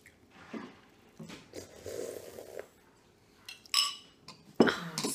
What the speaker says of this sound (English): Slurping sounds. Lots of slurping sounds.